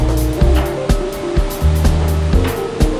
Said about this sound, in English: and there's bulldozers in the river.